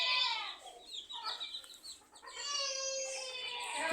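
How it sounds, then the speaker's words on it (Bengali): On a small village poultry farm, chickens and roosters cluck close by, a run of bright repeated calls with short pauses and a longer drawn-out cackle, loud and clear with no talk. "একটা মোরগ ঘুরে ঘুরে করতেছে, সাথে সাদা মোরগ আছে"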